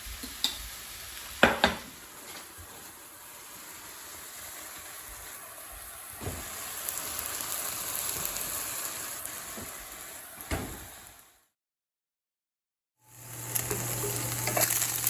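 Chicken pot pie filling browning in a pan, giving a steady low sizzle with occasional scrapes and knocks of a utensil, cut by a short silence before the frying resumes.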